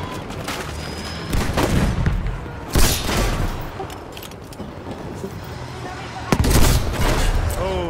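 A tank in a video game battle getting hit by explosions, with several sharp loud blasts and crashes over a rumbling engine and scattered gunfire, voices talking in between.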